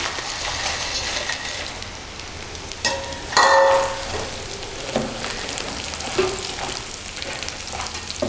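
Soya protein sizzles and crackles steadily in hot oil with softened onions, close and loud, with a spoon stirring and scraping through the pan partway through.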